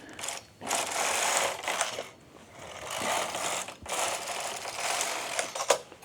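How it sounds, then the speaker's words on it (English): Machine knitting of yarn rows: repeated mechanical carriage passes, each a rasping, whirring sweep of a few seconds separated by brief pauses, close and steady. "I'm gonna knit a couple more rows."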